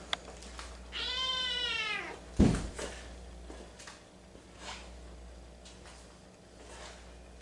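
A cat indoors gives one clear, drawn-out meow, followed by a bump and faint rustling and movement sounds nearby.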